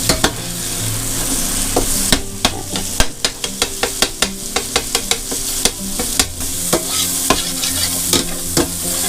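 Ground pork fries and sizzles over medium-high heat in a pan, with a steady broadband hiss under a run of sharp, regular taps and scrapes as a utensil breaks up the meat.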